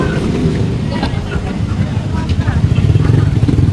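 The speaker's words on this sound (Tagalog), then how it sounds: "Ang daming motor." Many motorcycles pass along a street parade in Bulacan during a Flores de Mayo celebration, a steady close engine drone with revving and rattling that grows busier toward the end.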